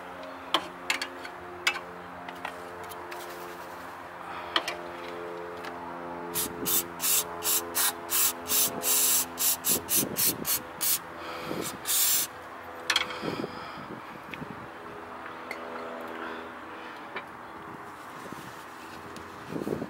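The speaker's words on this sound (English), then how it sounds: "we can spray it and clean everything up" Rapid bursts of throttle body cleaner spray hiss in a quick series into a car's throttle body, repeated in short pulses, over a steady engine hum and occasional clicks.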